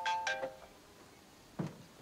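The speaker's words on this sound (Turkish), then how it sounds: "Telefonun çalıyor." A phone rings with a short melodic electronic ringtone, two bright tones close together, then quiet with a soft dull bump after a pause.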